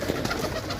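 Pigeons at a loft coo in a steady, low, throaty murmur that fills the short moment at close range.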